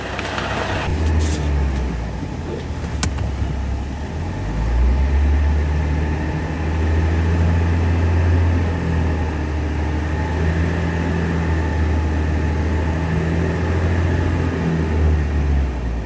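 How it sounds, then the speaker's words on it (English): A car engine rumbles and revs steadily as the vehicle drives slowly up onto low-profile hydraulic car ramps, a loud, close, continuous drone shifting pitch as it climbs. "And let me drive up onto them."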